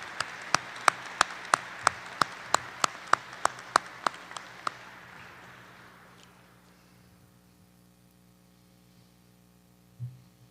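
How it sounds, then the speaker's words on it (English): A ceremony audience applauds at a military change of command and retirement event, a burst of about a dozen sharp, evenly spaced claps ringing over a steady room hum before fading into quiet, then one soft thump. "Please give Brigadier General Hughes one more round of applause"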